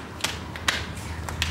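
Interlocking garage flooring tiles being snapped into place, heard as a handful of sharp, separate clicks at an irregular rhythm over a low steady background hum.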